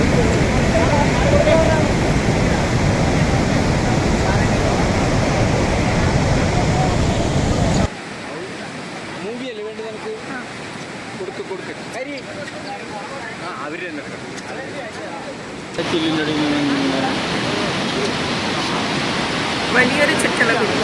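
Barron Falls at Kuranda, Queensland, a 125-metre tiered cascade, roars as a broad continuous rush of falling water. It is loud at first, drops to a softer, thinner wash midway, then swells again.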